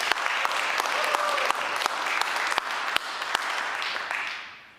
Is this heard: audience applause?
yes